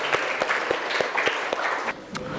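Students applauding together in a classroom, a short burst of brisk, uneven hand clapping from a small group, close and lively, fading out after about two seconds.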